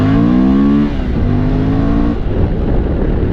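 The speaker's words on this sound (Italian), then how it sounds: "Vi faccio sentire l'ultimo allungo su questa stradina." A Suzuki V-Strom 1000 motorcycle pulls hard along a narrow road, its loud, close engine rising through one gear, a quick shift, then climbing again into a rough, louder roar.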